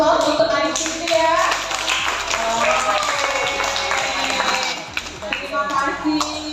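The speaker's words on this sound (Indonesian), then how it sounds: "kita berikan aplaus untuk adik Siti ya" Applause for a young prize winner at a school event held with a Merauke university program: a crowd claps steadily and nearby, with voices and children's chatter mixed in.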